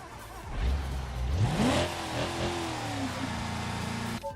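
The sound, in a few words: car engine with regular exhaust revving in a video game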